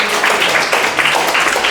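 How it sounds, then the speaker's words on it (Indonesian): Classmates clap in a classroom after a student finishes answering, a dense, steady patter of many hands sustained evenly throughout, close and fairly loud with no voices over it. "Tepuk tangan."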